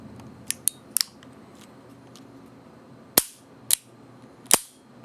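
Sharp metallic clicks from an empty Smith revolver being dry fired, a few light clicks followed by three louder, crisp snaps spaced about a second apart, close up with no talking.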